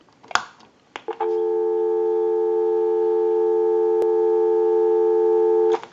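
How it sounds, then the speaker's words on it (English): A steady telephone dial tone hums from a wooden wall crank telephone converted for modern lines, clear and continuous for several seconds after a few clicks as the handset is lifted. "Give you some dial tone."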